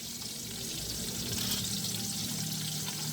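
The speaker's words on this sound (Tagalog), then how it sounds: "Solve na solve talaga ang pagprito ng isda." Fish fries in oil over a wood fire in a rural home, a soft, even sizzle that holds steady throughout, fairly quiet and with no one talking.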